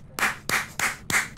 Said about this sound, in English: First of all, round of applause.